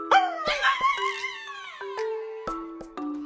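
A dog howls and yips in long, wavering tonal cries broken by short sharp barks, close and fairly loud with no talking.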